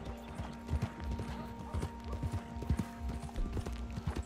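Horse galloping in the video game Red Dead Online, a rapid rhythmic run of hoofbeats with occasional louder thuds, steady throughout with no voices.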